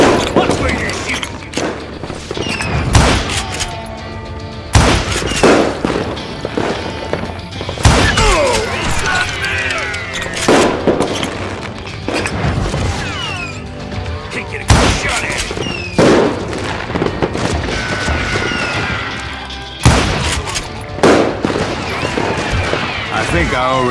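Gunfire from the Western shooter Call of Juarez: Gunslinger, set in a saloon: repeated loud shots and booming bursts recur through the scene, mixed with music and effects, while someone talks over it.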